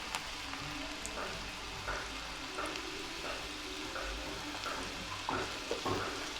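Chopped garlic cloves frying in oil in a pan while cooking a dal and spinach dish, a steady soft sizzle with light crackles and occasional stirring taps, fairly quiet and continuous throughout.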